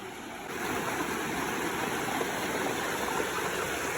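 A clear river rushes steadily close by, a constant full, churning flow that swells in after the first half-second and holds evenly.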